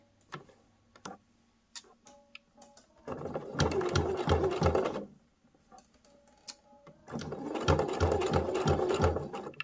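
Sewing machine stitching along a marked line on a small lined zipped fabric pouch, two steady close bursts of rapid rhythmic needle chatter separated by a pause with light handling clicks.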